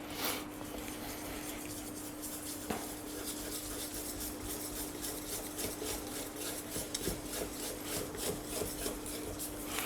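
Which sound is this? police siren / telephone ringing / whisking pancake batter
whisking pancake batter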